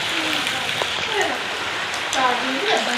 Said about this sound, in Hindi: ये देखें इतनी बारिश हो रही है, ऐसे पानी नालों में आ रहा है कि क्या बताएं।